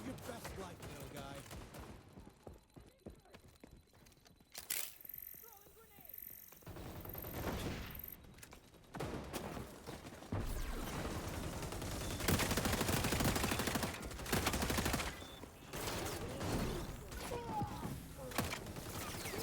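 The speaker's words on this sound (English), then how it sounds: "Willing to burn a mag to take down a shield." Gunfire in XDefiant as a full magazine is emptied into a shield, rapid bursts broken by mechanical clatter and quieter gaps, growing into dense, loud sustained shooting in the second half, with a voice talking over parts of it.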